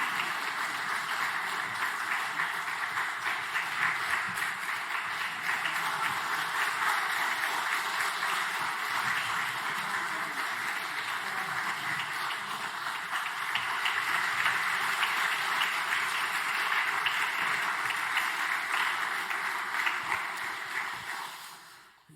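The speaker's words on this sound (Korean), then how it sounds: "무엇보다도 귀한 말씀을 전해주신 우리 김덕신 목사님께 감사하는 박수 하도록 하겠습니다." Church congregation applauding in thanks after an evening sermon at an autumn revival service, a steady broadband wash of clapping sustained for over twenty seconds before cutting off abruptly.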